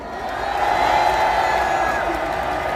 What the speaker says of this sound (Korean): 많은 청년들에게 여러분 박수를 좀 보내주십시오